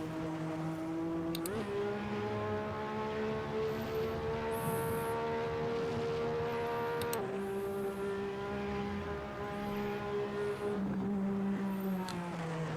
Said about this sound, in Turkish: Gazı bırakınca çok böyle tatlı böyle boğuk ve patlamalı sesler geliyor.